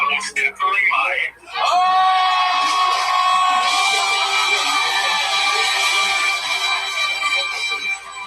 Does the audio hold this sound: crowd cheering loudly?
yes